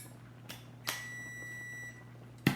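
A kitchen timer sounds a single sustained electronic beep lasting about a second over a steady low hum, framed by a few clicks.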